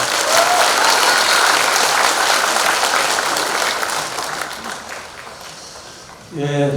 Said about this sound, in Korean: 여러분 큰 박수로 맞으시기 바랍니다